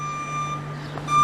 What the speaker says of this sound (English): That truck I think is a hybrid.